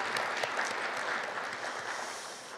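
An audience at a forum opening ceremony applauds, a moderately distant, even patter of many hands that tapers slightly toward the end.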